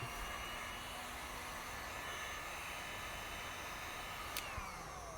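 Heat gun blowing hot air onto vinyl wrap on a Tesla Model 3 fender, a steady close whooshing fan roar with a constant motor whine, faint and unbroken.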